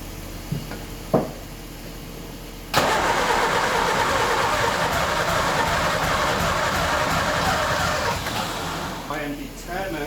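A neglected Ford Escort MK1 coupe that has sat unused for fourteen years cranks on its starter in a long, steady grinding churn, after a few faint clicks and knocks, then slows and stutters without catching.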